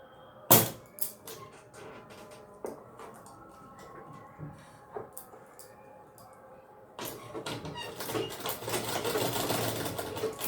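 A sewing machine stitches a zip onto a lehenga waistband in short bursts, separated by sharp clicks and knocks, then runs in a longer, louder continuous stretch near the end.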